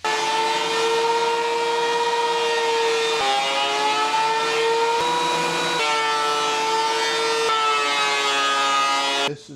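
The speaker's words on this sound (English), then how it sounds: "it will take and plane this board down, and it'll smooth it out" A planer runs while planing down an old, rough barn wood board, giving a loud, steady, high mechanical whine with slight shifts in pitch that holds for several seconds and then cuts off abruptly.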